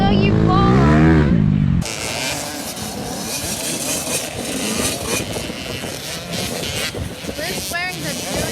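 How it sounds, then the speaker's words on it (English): Dirt bikes at a Wednesday night motocross practice at Albany MX: a close engine revs and whines with rising pitch, then a rougher, busier motor roar continues with other riders audible under it. "Mason's riding really good. It took Luke like a half a lap to pass him"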